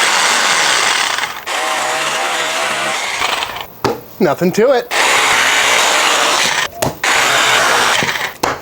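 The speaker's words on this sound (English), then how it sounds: "So now we need to bust out some power tools." A power tool cuts through a pork shoulder blade bone, giving loud whirring, grinding bursts broken by short pauses, with a brief spoken remark in the middle.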